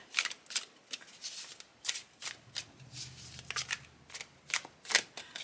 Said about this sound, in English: But they do lend themselves well to riffle shuffling.